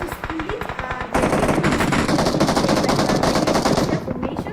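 Rapid automatic gunfire from many directions in a PUBG Mobile pro league finals match, loud and sustained, dense bursts crowding together with faint talk underneath.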